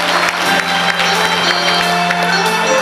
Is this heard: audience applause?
yes